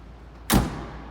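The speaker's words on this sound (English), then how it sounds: "Driver's side rear door." A single solid thud as the driver's side rear door of a 1995 Range Rover County diesel is shut, a short close slam followed by quiet.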